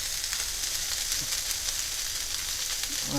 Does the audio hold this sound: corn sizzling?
yes